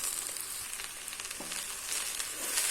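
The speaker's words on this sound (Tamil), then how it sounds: "இது கூட நாம் கொஞ்சம் தேங்காய் துருவலையும் போட்டு அப்படி வந்து வதக்கி லைட்டாக வதக்கணும்," Grated coconut stirred into okra in a hot pan, a steady soft sizzle of light sautéing with a few faint scraping stirs, close by and with no talking.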